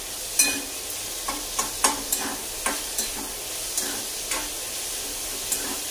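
Chopped onion and tomato are stirred and fried in a pan: a continuous soft sizzle broken by regular, sharp scraping strokes of a spatula about every half second, close and clear with no talk.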